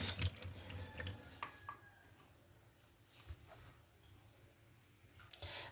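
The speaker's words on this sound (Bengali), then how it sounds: "এগুলো আমি ধুয়ে নিব" Tap water runs steadily over raw chicken meat being washed in a sink, with a few splashes and drips standing out near the start and end; no one speaks.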